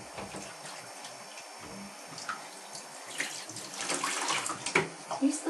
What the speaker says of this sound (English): I gotta make sure you're rinsed really well this time.